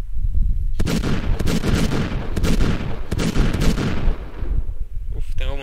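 Gunfire in Resident Evil Village, a series of loud, heavy shots spread over several seconds with booming reverberation, followed by a short stretch of speech at the end.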